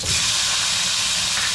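Tomato going into a hot pan, a loud bright hiss of steam and sizzle that stays strong and even for a moment.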